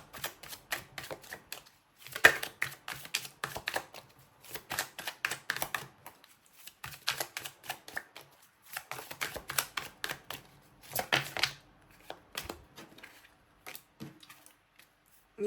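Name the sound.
drawing a tarot card from the deck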